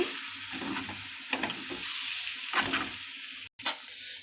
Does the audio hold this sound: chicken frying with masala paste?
yes